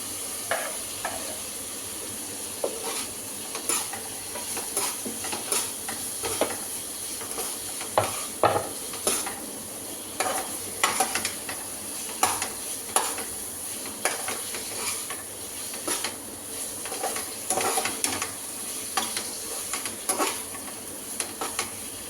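Chopped taro root (arbi) stir-fried in a spiced masala for a dry sookhi arbi sabzi, with steady sizzling and irregular scraping stirs throughout, close and moderately loud, no talking.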